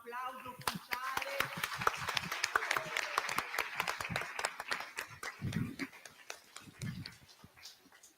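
A theatre audience at an awards ceremony in Pieve di Soligo claps in a loose, uneven round of distinct hand claps, fairly quiet, with voices mixed in and a few louder low thumps toward the end.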